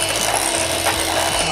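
An electric mixer churns gluten-free cheese button cookie dough with a continuous, close, grinding whir and a rattly mechanical texture throughout.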